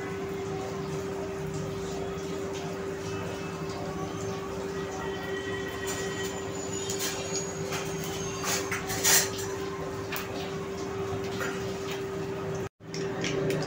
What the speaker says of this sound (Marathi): हे पहा, जिरी मोहरी छान तडतडली।